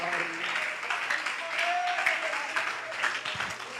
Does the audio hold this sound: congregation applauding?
yes